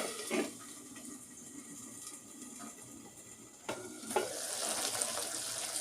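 Onions sautéing with coarse salt in a pan for Tamil fish kulambu, a steady soft sizzle with a few louder scrapes and clatters of stirring near the start and end.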